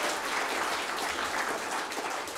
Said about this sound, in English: Just put a round of applause for those girls.